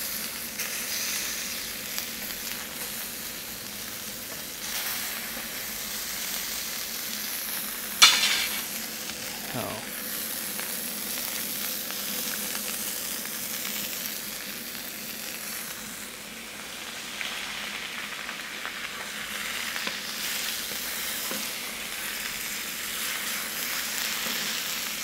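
Butter melts and sizzles in a hot pan beside beef tenderloin, a steady moderate frying hiss lasting throughout, with a sharper clatter and burst of spatter partway through.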